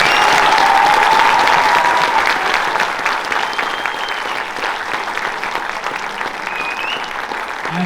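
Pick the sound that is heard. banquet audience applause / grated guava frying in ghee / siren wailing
banquet audience applause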